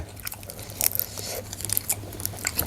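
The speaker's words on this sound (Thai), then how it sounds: "กัดกระเทียมเข้าไป" Someone bites into raw garlic and chews it alongside spicy fermented fish and chilies, giving close, wet crunches and chewing over a low background hum.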